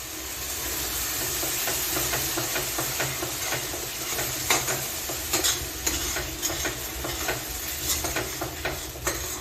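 Spice paste for paneer masala frying in a pan after spice-rinsing water is added, a steady hissing sizzle joined by a series of spatula scrapes and taps that grow more frequent toward the end.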